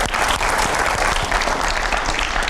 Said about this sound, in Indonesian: Kita kasih tepuk tangan buat kamu.